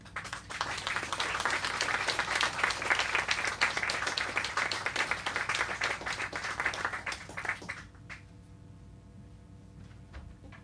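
Audience applause welcoming an author to the stage at the Politics and Prose bookstore in Washington, D.C., a dense, steady crowd clapping for about eight seconds before tapering off into a few scattered claps and quiet room noise.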